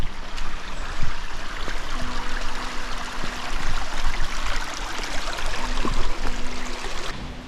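Steady rushing of a stream flowing over stones, a continuous broadband wash of water close by with no voices.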